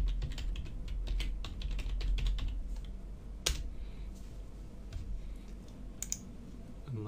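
Someone types on a computer keyboard in rapid bursts of close, crisp key clicks, with a louder key strike partway through and a couple of sharper taps near the end.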